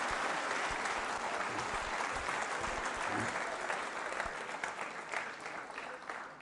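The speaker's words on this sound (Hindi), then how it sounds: "एकता जी के लिए जोरदार तालियां, और तालियां जोरों से बजाइए उनके सम्मान में आप।" Audience members at a school quiz show clap steadily in a sustained round of applause, thinning slightly toward the end.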